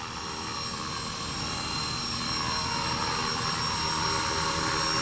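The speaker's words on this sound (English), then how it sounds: "I give it some power, and up we go again. We're in the air again, hovering." A remote-control model helicopter hovers with a steady, dense, high-pitched whine of rotor and motor that holds constant and close throughout, with no voices.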